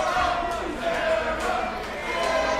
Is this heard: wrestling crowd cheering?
yes